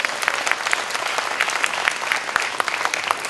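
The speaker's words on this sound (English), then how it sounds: "give her another big round of applause" An audience at a talk gives a round of applause: dense, even clapping from many hands, close and loud, running without a break and with no voices over it.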